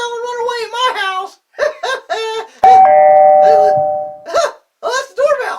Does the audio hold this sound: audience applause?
no